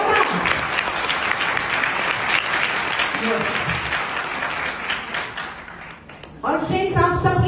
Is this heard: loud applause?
yes